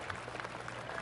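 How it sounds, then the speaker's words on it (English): Soft, polite scattered golf clap from a small crowd in a golf video game, PGA Tour 2K23, steady and restrained for a brief moment. "Oh, golf clap."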